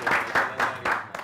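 A few bursts of clapping from a small group come in uneven pulses, each swelling and fading over about a second.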